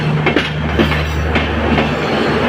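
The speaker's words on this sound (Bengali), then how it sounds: "দেখুন ওই যে ট্রেনটা পাকা খেয়ে চলে যাচ্ছে" A night train running through a station, a loud steady rumble with rhythmic clicking wheel beats and a low droning hum, close by and continuous.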